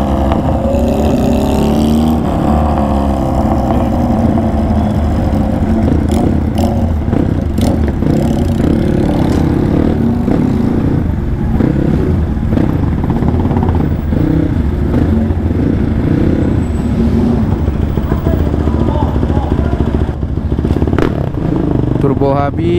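Motorcycle engine revved repeatedly from behind a rider, a loud continuous drone with surging throttle blips, while a voice talks over it.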